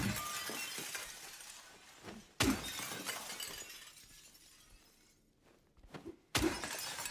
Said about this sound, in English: Smashing the cabinets is fun.